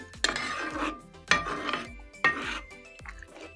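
A spoon stirs garam masala into prawn gravy in a metal pan, giving three or four clear clanks and scrapes against the pan in a loose rhythm, close and moderately loud.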